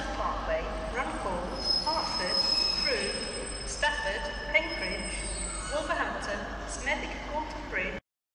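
Train moving through Liverpool Lime Street station, with rumbling wagons, squealing wheels and platform announcements over a busy, echoing concourse throughout.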